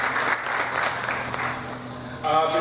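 Audience at a training event applauds for Mr. Vijay Batra, a sustained wash of clapping that stays fairly loud, with a voice entering near the end.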